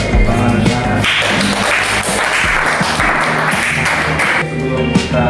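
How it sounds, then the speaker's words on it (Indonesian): Students clap their hands together in a classroom at the end of a lesson, a dense, lively burst of applause lasting a few seconds over faint background tones. "Mari sama kita tepuk tangan dengan"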